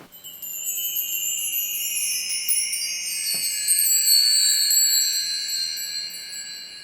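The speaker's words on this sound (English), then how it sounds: "The ethereal wind chimes." Wind chimes ringing softly in a continuous shimmering cluster of high, sustained metallic tones that slowly decay, with one faint low knock partway through.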